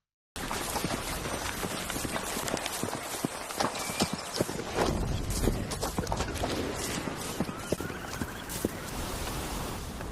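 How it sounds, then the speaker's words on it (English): Rapid hoofbeat clip-clops of a galloping hydrogen-powered robot horse, steady and fairly loud, with a mechanical edge and scattered sharp clanks throughout. "They call it a robot horse."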